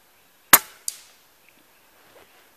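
BSA Ultra SE .177 PCP air rifle, AirTech tuned, firing at a target 55 yards away: a sharp, loud crack followed a moment later by a fainter slap of the pellet striking, then quiet.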